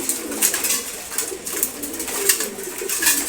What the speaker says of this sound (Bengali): আনকমন কালার এই দুটা কবুতর